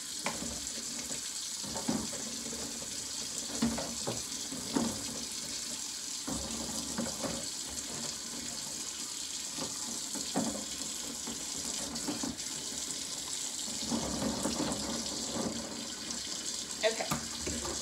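Warm tap water runs steadily into a sink for washing hatching eggs, a continuous broadband hiss with occasional splashes and clunks, close by and alone.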